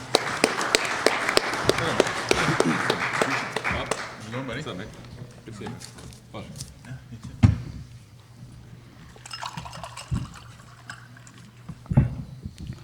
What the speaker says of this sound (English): Let's have a round of applause again for all the candidates.